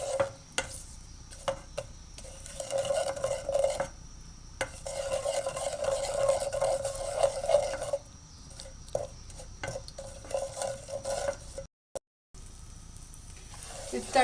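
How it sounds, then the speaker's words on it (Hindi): Spices with salt and chili crackling in hot oil as a tempering for Pakistani kadhi pakora, a soft steady sizzle with stirring scrapes, fairly quiet and close, pausing briefly before resuming. "उसको गर्म ऑयल में डाल दें। और इनको हल्का सा भूनें।"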